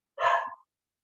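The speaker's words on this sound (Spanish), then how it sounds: "Ustedes están oyendo a mi perro que está por allá ladrando." A single short bark from a dog some way off, one brief burst with nothing else around it.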